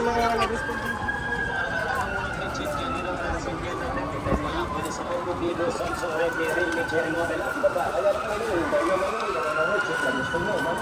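A fire truck siren wails continuously in busy street noise in Quiapo, its pitch slowly rising and falling, with voices and traffic around it.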